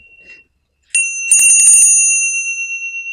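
A healing bell is struck once after a short silence and rings out bright and loud, its clear metallic tone holding and slowly wavering as it resonates.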